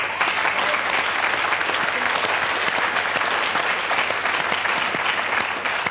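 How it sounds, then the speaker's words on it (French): A television studio audience breaks into loud, continuous applause for two young contestants, dense clapping filling the space at a steady level throughout. "c'est-à-dire Ludovic et Arnaud, que l'on peut applaudir"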